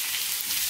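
Potatoes and peppers stewing in a frying pan give a steady, soft sizzle with a faint crackle throughout, close and even in loudness, with no voices.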